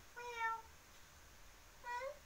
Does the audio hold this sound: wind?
no